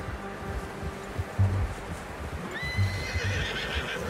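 Horse whinnies in Red Dead Redemption 2, with rising harmonic neighs near the end over steady hooves clip-clopping in bursts and a low background bed; no one speaks.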